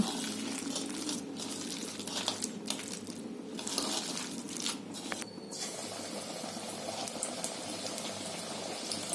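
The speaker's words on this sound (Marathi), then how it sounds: "तेल तापलं आता मी भजी सोडते" Onion bhaji, crisp onion fritters, frying in hot oil: a steady, dense sizzle and bubbling that carries on evenly throughout, close by, with no talking.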